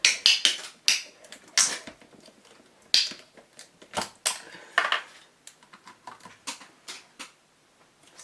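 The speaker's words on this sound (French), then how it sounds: "je vais ouvrir ma bouteille d'alcool" A new bottle of alcohol ink being opened: a quick series of small clicks, snaps and plastic crackles, close and fairly crisp, scattered over several seconds with brief quiet gaps and no talking.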